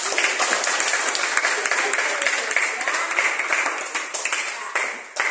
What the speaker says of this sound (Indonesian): Tepuk tangan untuk Moses.